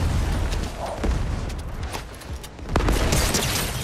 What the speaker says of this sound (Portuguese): eu dei um tiro de AR nele